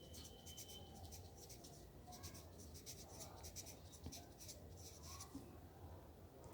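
A pen scratches steadily across paper, writing out the letters of the word Allahabad in continuous soft strokes, faint and close throughout.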